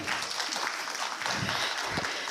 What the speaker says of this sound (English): a grand round of applause for Kandi sir and Ved Boss for that